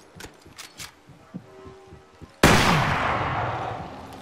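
Gunfire in the battle royale game Apex Legends: scattered light thuds and footsteps give way to a sudden loud burst of shots that rings out and decays into a sustained roar.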